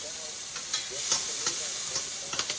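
Onions and garlic sauté in a pan over lowered heat, a close steady sizzle broken by repeated scraping stir strokes and light utensil taps.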